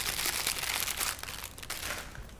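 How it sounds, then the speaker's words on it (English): Crumpling and crinkling in the background of a podcast studio: a steady, close, rustling hiss of handled material with a few sharper crackles and no talk. "Joey Diaz is crumpling in the background"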